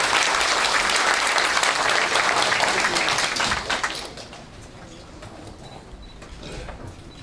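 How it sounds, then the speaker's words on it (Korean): Council members and reporters at a mayor's first-anniversary press briefing in Suwon give a full burst of hand clapping that lasts nearly four seconds, then fades into a quiet room. "의회하고 기자들께서는 박수를 잘 안 치시더라고요. 한번 화끈하게 한번 쳐주세요."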